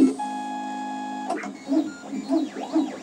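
MakerBot Replicator 3D printer printing, a steady electronic tone giving way to rising and falling stepper-motor whines as the carriage moves, up close with no talk.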